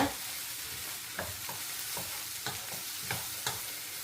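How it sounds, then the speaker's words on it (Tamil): Egg is stirred into vegetables and string hoppers in a frying pan, with a continuous soft sizzle and regular spatula scrapes and taps roughly every half second, close and without talk. "முட்டை எல்லாம் சேர்ந்து நல்லா மிக்ஸ் பண்ணி கொடுங்க"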